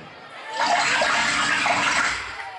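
Water pours during a stage magic show, a loud rushing splash that swells in, holds steady for about a second and a half and then tapers off, with a faint voice beneath.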